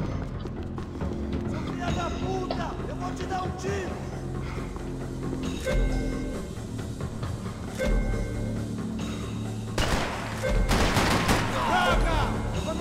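Gunfire in the video game Max Payne 3: repeated shots and rapid bursts crack out in uneven clusters, loud and close, with game music and a voice talking beneath and between the shots.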